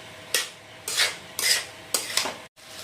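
Metal spoon clattering against a cooking pot while rice is stirred into refined oil for Barisal-style white pulao, about five separate scraping clinks in a slow, uneven rhythm, close and fairly loud, with no talking.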